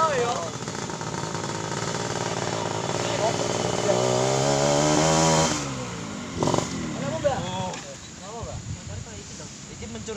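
Small motorcycle engine idling and revving close by, a steady buzzing drone that swells and then drops away, with voices talking over it.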